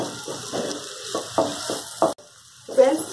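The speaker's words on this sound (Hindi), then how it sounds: "तो पहले प्याज को अच्छे से भून लेते हैं हम" Onions fry in a pan for a broccoli stem soup, giving a soft sizzle broken by several short stirring scrapes and one brief gap, with someone speaking over it.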